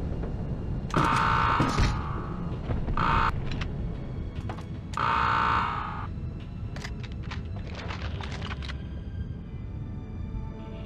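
A pulsing alarm in the PS1 game Medal of Honor, during the mission to scuttle the U-boat U-4901. It comes in three loud, tonal bursts separated by gaps, over a busy background of game noise and clanks.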